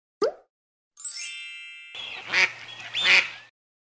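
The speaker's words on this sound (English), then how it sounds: "Duck." A cartoon duck quacks twice in a toddler learning game on Android, coming after a plop and a bright chime. The sounds are clean, close and loud, with no talk.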